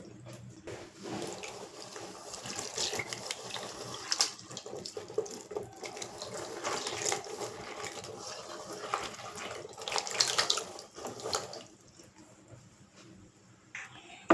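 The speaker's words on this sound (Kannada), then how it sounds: "ಕಾಳು ಮತ್ತು ಈ ತರಕಾರಿ ಎರಡನ್ನೂ ಒಟ್ಟಿಗೆ ಹಾಕಿ ತೊಳ್ಕೊತೀನಿ ಈಗ" A kitchen tap runs steadily as lentils and chopped vegetables are washed together for Karnataka bassaru, with the splashing and clatter of the produce swelling and dropping before the flow eases near the end.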